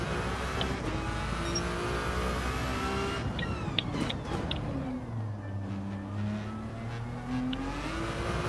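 A Porsche race car in Gran Turismo 7 whines along at speed, its engine climbing through gears and dipping between shifts, loud and steady throughout with no talk.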